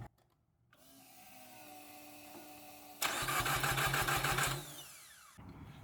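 A Nissan X-Trail engine cranked with its fuel injectors removed: a whirring build-up, then a loud rhythmic cranking burst for about a second and a half before it cuts off, heard close with no talk.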